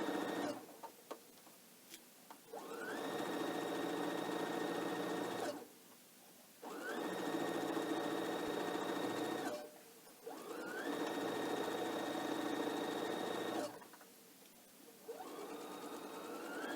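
Sewing machine back stitching a pillow case, running in several steady bursts of a few seconds each with short pauses between, close and fairly quiet.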